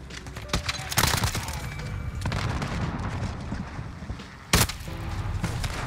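Gunfire in a Modern Warfare match, with scattered sharp shots and a couple of loud booming cracks over a busy game background.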